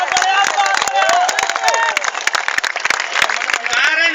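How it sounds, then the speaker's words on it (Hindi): Audience applause and cheering at a Hindi kavi sammelan (poetry recital) at an engineering college, a steady crowd roar with scattered claps for about four seconds while voices shout and talk over it. "एक बार ताली हो जाएगा जोरदार"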